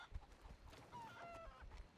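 Chickens clucking in a western-themed video game, a few soft, short clucks and brief calls at low level against faint background noise.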